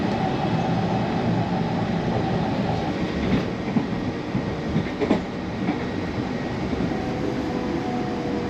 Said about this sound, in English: That's a very busy train.